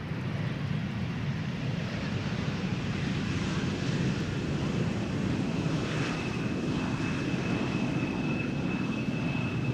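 A KLM Embraer 175 jet landing at Amsterdam Schiphol Airport, its engines a steady distant roar with a faint whine, heard alone and at a fairly constant level.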